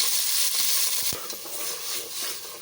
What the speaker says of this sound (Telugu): మనం కడిగి పెట్టుకున్న మటన్ ఒక మూడు వందల గ్రాముల మటన్ అయితే ఆనియన్స్లో వేసుకోవాలి